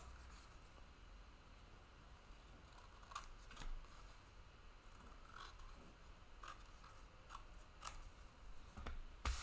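Scissors snipping paper while making a collage postcard: several brief, crisp cuts at uneven intervals, close by but fairly quiet, over a low steady background hiss.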